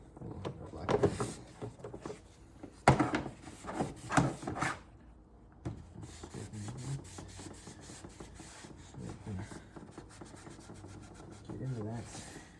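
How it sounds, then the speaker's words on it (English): A wet rag rubs and scrubs grime off a BMW E36 engine cover, with irregular close-up wiping and scraping strokes, a few sharper knocks and clunks, and quieter rubbing stretches in between. "wet rag, just kind of clean off this cover that we pulled off here"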